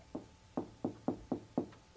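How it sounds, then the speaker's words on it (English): Knocking on a hollow wall, six evenly spaced dull knocks in a steady rhythm, close and fairly loud with nothing else heard. "It's turned into a knocking."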